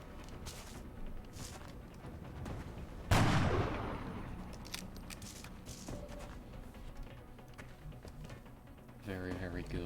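A sniper rifle fires in XCOM: Long War, one loud, sharp report with a long rumbling decay, set among background game sounds and talk.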